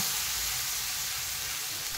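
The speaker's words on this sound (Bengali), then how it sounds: "এখানে আমি একটা পেঁয়াজ কুচিয়ে রেখেছিলাম ছোট ছোট করে, সেটাকে আমি বেরেস্তার মতো করে ভেজে নেব" Finely chopped onion frying in oil until golden, for a Bengali potol chingri dish, makes a steady, close, hissing sizzle with no pauses and no talk.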